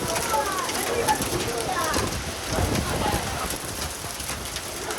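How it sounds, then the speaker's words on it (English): Heavy rain patters densely on surfaces, mixed with gusts and a few soft bird calls, while voices murmur faintly underneath, during a near-tornado storm with hail hitting parked trucks. "It's pouring down rain."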